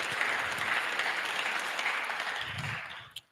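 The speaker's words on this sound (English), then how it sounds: "Give yourselves a round of applause." An audience at a startup summit finale applauds steadily for a few seconds, a moderately distant wash of clapping that fades out at the end.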